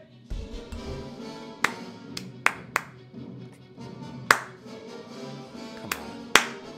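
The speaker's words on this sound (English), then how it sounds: "I'm doing an uninspired, unenthused clap" A few limp, scattered hand claps, isolated sharp smacks spread unevenly over several seconds under a faint room background, with no talking.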